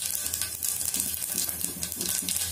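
Mustard seeds and cumin in hot oil for a bottle gourd palya, a close, even sizzle with light crackle that carries on without pause and has no speech over it.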